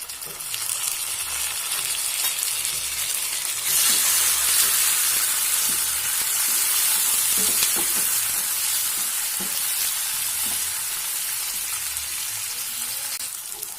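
Tomatoes added to a pan with peanuts for sabudana susla fry with a continuous, loud hissing sizzle, with faint stirring clicks scattered through the steady spitting of the hot pan.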